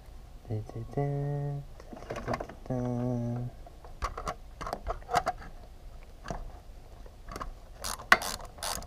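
A ratchet fitted with a swivel threads a bolt into a Subaru power steering pump, giving rapid clicking ratchet bursts and metallic taps, close by, with someone talking at the start.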